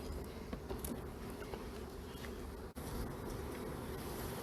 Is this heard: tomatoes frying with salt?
no